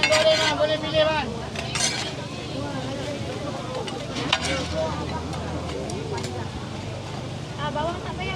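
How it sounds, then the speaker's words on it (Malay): Lamb sizzling on a grill at a Ramadan bazaar stall in Kelana Jaya, a constant crackling fry mixed with metal utensils scraping and clinking, close and busy under a vendor's steady calls and crowd chatter. "Lamb grill, panas-panas lagi."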